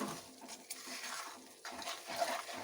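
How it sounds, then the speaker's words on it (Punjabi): Semolina roasting in ghee in a pan on medium flame for halwa, stirred continuously with a spoon scraping and clinking against the metal, producing faint, steady scratching with occasional light taps. "ਹੁਣ ਇਹਨੂੰ ਓਨੀ ਦੇਰ ਭੁੰਨਾਂਗੇ ਜਦ ਤੱਕ ਸੂਜੀ ਦਾ ਰੰਗ ਨਹੀਂ ਬਦਲ ਜਾਂਦਾ ਮੀਡੀਅਮ ਫਲੇਮ ਤੇ ਇਹਨੂੰ ਲਗਾਤਾਰ ਹਿਲਾਉਂਦੇ ਹੋਏ ਪਕਾਵਾਂਗੇ"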